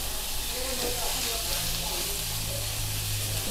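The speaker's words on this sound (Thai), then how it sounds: "ผัดให้หอมนะครับแล้วก็ให้หมูสุก" Pork belly stir-fried in a pan, a steady close sizzle and hiss of frying meat that runs throughout, with someone talking over it.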